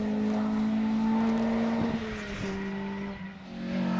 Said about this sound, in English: only one finisher, the Peugeot 206 of Steve Wood and Aled Richards